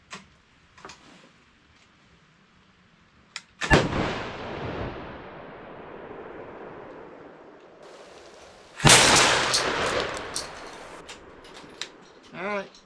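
A 20 gauge shotgun loaded with Longbeard XR number 6 shot fires two loud, close blasts several seconds apart outdoors, each trailing a long rumbling decay, with faint clicks and handling noises in between.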